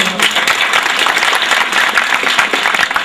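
A school audience at the Modern Public Schools Shinbagh, Attock silver jubilee in 2011 claps loudly and steadily, dense applause filling the hall without a break.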